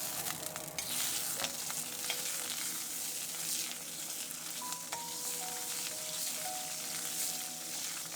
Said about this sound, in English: If the wok is hot enough, in goes the lard.